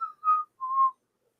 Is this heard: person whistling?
yes